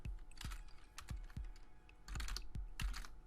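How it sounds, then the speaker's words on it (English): Keys on a computer keyboard clack in short uneven bursts as a colony name is typed in the game Automation Empire, quiet and close, with a few isolated presses between faster clusters. "If it'll let me type."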